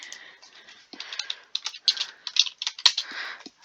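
Rapid, irregular clacking of a computer keyboard being typed on close by, bursts of keystrokes with short pauses, no voices.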